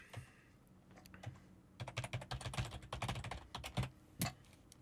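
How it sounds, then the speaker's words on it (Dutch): Rapid typing on a computer keyboard, a burst of quick clustered keystrokes after a brief pause, close and fairly quiet, with no voices. "En dat ga ik gewoon boven op mijn foto typen."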